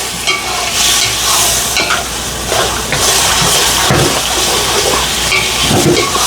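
Shrimp sautéing in a pan with salt for shrimp biryani, a steady loud sizzle and hiss with stirring scrapes throughout, no talking.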